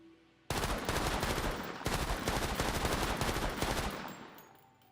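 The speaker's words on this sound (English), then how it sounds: "we know we can hear the turret" Deployed turrets in the online zombie game Persist Online open up in a loud, sustained burst of rapid automatic gunfire that begins abruptly, rattles on for about four seconds, then tails off.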